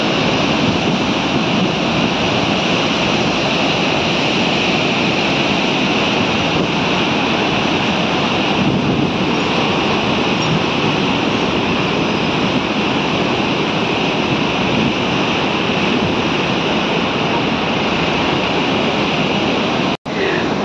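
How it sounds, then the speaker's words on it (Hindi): Roaring floodwater pouring through Galudih Barrage in Jharkhand, a dense, steady rushing roar that stays loud and unbroken for about twenty seconds, with no one talking over it. "तो दोस्तों आप लोग सुन सकते हैं कि यहाँ पर पानी का कितना भयंकर आवाज हो रहा है।"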